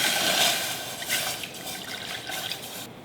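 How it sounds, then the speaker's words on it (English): Two cups of milk poured into a pan for eclair pastry cream, a steady close liquid stream with soft splashing that holds for about three seconds. "I'm going to start by adding my 2 cups of milk into a pan."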